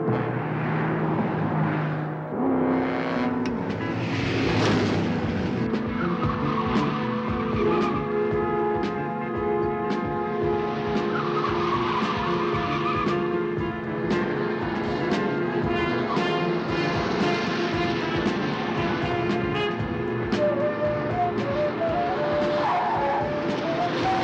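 High-powered engines roar continuously through a car chase, with repeated tire squeals and skidding, loud and sustained for the whole stretch and with no talking.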